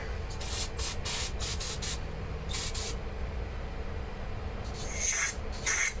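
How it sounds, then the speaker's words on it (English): Air blasted from an empty aerosol can into a Troy-Bilt lawn mower carburetor, a series of sharp hissing spray bursts of varying length, close and loud against a quiet background. "I'm gonna grab an empty can. It'll act just like compressed air."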